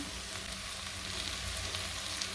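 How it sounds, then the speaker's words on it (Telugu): Dried fish sizzling in hot oil in a pan for a bottle gourd dry fish curry, a dense, steady, close frying hiss with no pauses and no voices. "ఇప్పుడు ఎండు చేపలు అయితే వేసుకుంటున్నాను"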